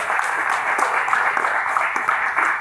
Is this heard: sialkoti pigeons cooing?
no